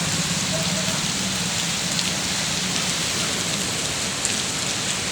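Heavy rain pouring down in a continuous, dense roar of drops hitting surfaces, loud and steady throughout with no letup.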